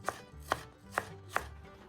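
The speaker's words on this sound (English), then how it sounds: "15 grams of ginger shredded." A knife shredding 15 grams of ginger on a cutting board, four crisp evenly spaced chops close up with quiet pauses between them, no voices.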